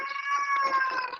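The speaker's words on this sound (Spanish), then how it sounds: "tengo un problema con el gatito que está maullando" A kitten that has been shut in a room meows in a single drawn-out, wailing call lasting about a second, close and clear.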